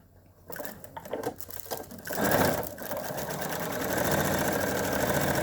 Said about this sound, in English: now I'm going to stitch it in place just to the right of my stitching